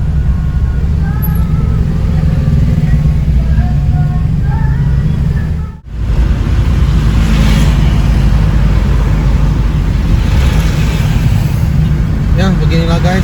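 Steady roar of dense Jakarta road traffic in the afternoon jam, with idling and revving engines, motorbikes among them, continuous throughout with voices faintly in the background.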